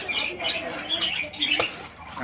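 Quails and doves kept on a small farm in Bangladesh give short, high squawking calls in quick bursts, close by, with light background noise between the calls.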